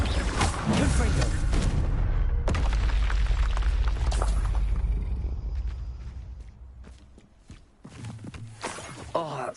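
In the Hogwarts Legacy video game, the Confringo fire spell bursts into heavy booming explosions with crackling debris and a low rumble that gradually fades, followed by scattered impacts and game effects, with a voice calling out over the action.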